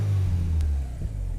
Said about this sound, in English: Let's give her a little blip, shall we?